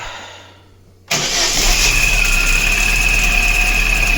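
A Daewoo Lanos 1.5 engine fires up for the first time after a cylinder head repair: a moment of near quiet, then an abrupt loud start settling into a steady, close idle with a thin whine on top.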